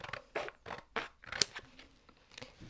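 Scissors cut a crochet piece in two with a series of close, crisp snips at a steady pace, about six or seven cuts alone with no talk.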